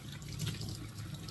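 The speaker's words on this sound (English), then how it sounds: "I'm going to bring this over to the sink. And I'm just going to start by rinsing them off really well." A kitchen sink faucet runs steadily as vegetables are rinsed under it, a soft continuous splash of water heard alone at low level.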